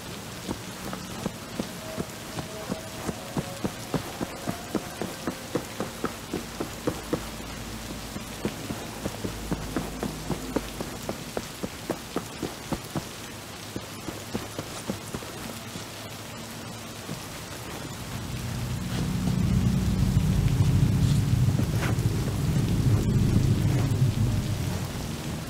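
Night rain and thunder in Cyberpunk 2077: steady rainfall with dripping patter, then a deep rolling thunder rumble swells in the latter part, moderately loud and without speech.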